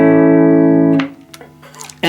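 An Epiphone Les Paul Gold Top on both pickups, played through a Vox AC4TV amp, rings out one loud sustained chord for about a second, then quieter picked notes follow before a sharp new strum at the end.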